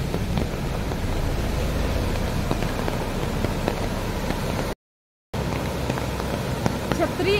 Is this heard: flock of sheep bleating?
no